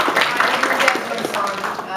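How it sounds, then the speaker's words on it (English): A ConnectiCon 2014 convention audience gives a round of applause, brisk clapping and cheering that overlaps with people talking nearby throughout the short burst. "let's give these guys a round of applause"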